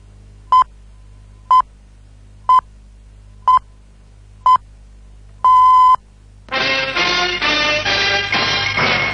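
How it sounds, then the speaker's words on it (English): Radio time signal on an AFN Nuremberg newscast: five short, evenly spaced pure beeps about a second apart, then one longer tone. A loud, dense burst of music or jingle follows, with no talk. "At the sound of the last tone, it will be 18 hours, Central European Time."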